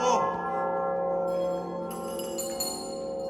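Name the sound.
bell in a bell tower being rung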